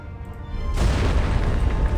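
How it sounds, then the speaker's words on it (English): An explosion in the video game Reverse 1999 rocks the ground: after a short quiet lead-in, a sudden deep boom bursts in and rolls on as a loud, sustained rumble to the end. "an explosion rocks the ground from below, and smoke begins to pour over the streets"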